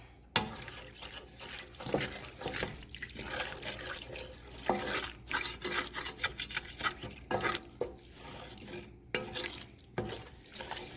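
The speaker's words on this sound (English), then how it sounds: "get the beef stock in there. And give it a good stir" A spoon stirs beef stock into a Guinness beef stew in a pan, with repeated scraping strokes across the metal bottom and wet sloshing of liquid, close and fairly steady.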